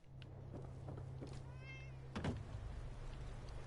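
A cat in Fallout 4's Far Harbor meows a few times in short, thin cries over a steady low game hum, with one louder, sharper meow near the end.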